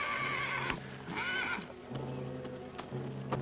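A lame horse whinnies loudly in two shrill, wavering calls, with scattered hoof thuds and stamping in between.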